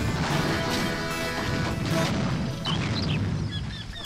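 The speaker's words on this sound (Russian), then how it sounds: "Затрещал теремок" A wooden fairy-tale house cracks and collapses in a loud, sustained smashing crash, with splintering and breaking debris filling the whole stretch and no talk over it.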